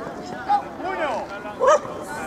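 A dog at an agility competition gives a couple of short, yipping barks and whines, close by, alongside people talking.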